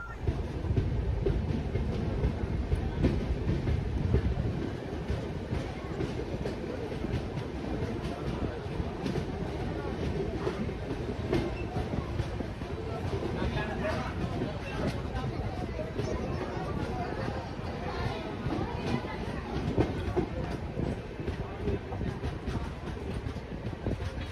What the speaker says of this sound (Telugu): సో ఇప్పుడే ట్రైన్ తాందూర్ స్టేషన్ డిపార్ట్ అయింది